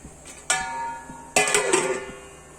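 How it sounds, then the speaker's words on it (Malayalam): A lid goes onto a pot of fish curry with two clear metallic clinks, the second clatter ringing a little longer, against a faint kitchen background. "ഇനി നമുക്കിത് അടച്ചു വെച്ച് വേവിക്കാം"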